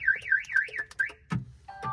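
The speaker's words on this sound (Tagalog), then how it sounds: "Nakita nyo, nag-alarm kasi hindi ko na deactivate eh." A car alarm sounds nearby, first with a rapidly warbling siren tone, then a few sharp chirps and bursts, loud and clear with nobody talking.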